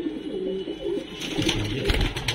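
Pet pigeons, including kasni males, give low throaty coos close by, a steady rolling murmur that swells near the end.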